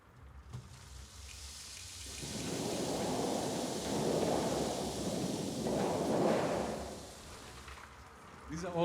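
A rain stick shaken as a sound effect for a radio play, giving a long, steady rushing patter like falling rain that swells and fades over several seconds, moderately loud and close.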